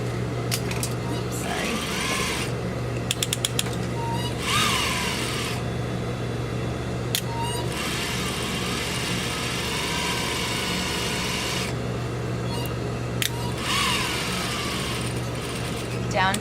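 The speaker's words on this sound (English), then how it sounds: "I'm going to go ahead and do a couple stitches forward, a couple stitches back" A sewing machine stitches thick fabric in short bursts of rapid mechanical whirring, forward and back, close by, separated by pauses and with a person talking over parts of it.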